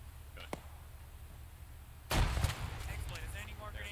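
A grenade thrown in the military game Arma 3 bursts in a sharp, loud blast midway, followed by a rumbling, clattering tail over background noise, with a brief click earlier and voices around it.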